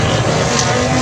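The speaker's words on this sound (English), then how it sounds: "the pace truck just the far side of the start line from the field sets off to lead them on their final formation lap" Race cars in a CMRC race at Bushy Park, Barbados, pull away behind a pace truck for the final formation lap, their engines a loud, steady roar for a brief moment.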